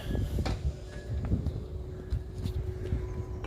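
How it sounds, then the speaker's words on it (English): A door pushed about by the wind knocks and bangs several times against a steady low outdoor rumble, with sharp irregular thumps spread across the stretch. "just heard that door slamming"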